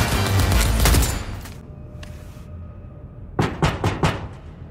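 Gunfire from a weapon in the video game Cyberpunk 2077 opens with a loud, dense burst that fades out, then after a quieter gap a few sharper shots crack in quick succession, close and punchy.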